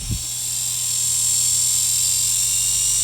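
A giant homemade drone motor spins up on a 3-cell battery after a short knock, settling into a loud, steady high-pitched whine with a constant electric hum.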